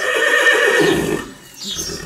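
At an equestrian centre a horse gives a loud, close whinny lasting about a second, then quieter neighing follows with no voices.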